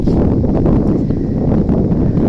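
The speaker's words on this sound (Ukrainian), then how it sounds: "вітер на вулиці такий розходився" Strong wind blows outdoors on a farmyard day, a loud, steady, broadband rumble and buffeting across the microphone that stays constant throughout, with no voices.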